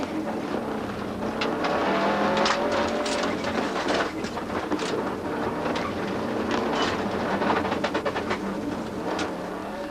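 A Subaru rally car driven hard through a tight stage of the 2004 Tour Natal, its engine roaring loud and continuous for the whole stretch, with dense broadband noise and repeated sharp bursts.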